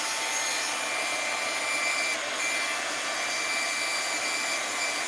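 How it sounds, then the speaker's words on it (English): A heat gun blows hot air in a continuous, loud, even whooshing drone close by, steady throughout with no talk. "let's get my heat gun"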